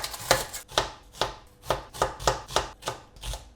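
A knife finely chops onion on a board in eight evenly spaced, crisp thuds, close and fairly loud, with no talking.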